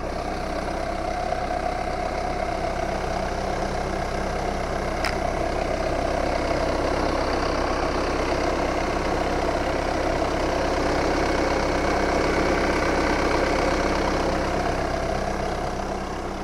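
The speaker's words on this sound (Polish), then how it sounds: "Dieselek pracuje równo, pali ładnie." A Volkswagen Golf 7 Comfortline diesel engine idles steadily and evenly, with a constant low rumble and a faint rattle and no talking.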